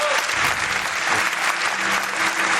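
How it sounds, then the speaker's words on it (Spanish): Warm audience applause in a hall in Zamora, a brief burst of dense clapping filling the room, with a faint voice or murmur underneath. "Os pido un aplauso para él."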